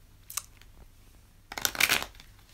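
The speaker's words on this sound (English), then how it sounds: "You guys just heard the sound of a riffle shuffle." Tarot cards are riffle shuffled twice, a brief crisp flutter followed by a longer, louder rippling burst of cards snapping together, close by in a quiet room.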